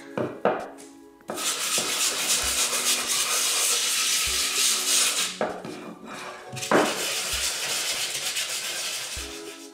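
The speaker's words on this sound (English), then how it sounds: "let me get the sanding done" Steady, loud abrasive whirring of a drum sander grinding across a wooden bowl blank, running continuously with a couple of brief pauses and clunks.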